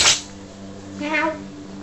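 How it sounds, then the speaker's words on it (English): A domestic cat gives a single short meow, close by, after a brief sharp burst at the start; the rest stays fairly quiet. "That's my daughter's cat, Uni."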